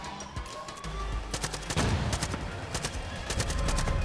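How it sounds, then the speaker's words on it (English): Gunfire from a sniper rifle in the Far Cry 5 video game, with a burst of several sharp shots cracking in quick succession over a game background, fairly quiet overall. "Okay, I got a sniper rifle out."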